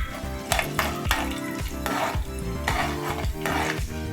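Tempering spices for brinjal fry sizzling in oil while a spatula stirs them, rhythmic scraping strokes over a steady close frying hiss.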